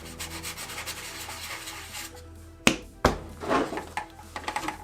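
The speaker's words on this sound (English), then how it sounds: "So scrape away some of that primer so you're just putting the filler right on top of the filler" Sanding by hand to strip primer from a New Bright 1/10 plastic hard body of a 2021 Ford Bronco RC car: steady close rubbing strokes, then a few sharp taps and scuffs near the end.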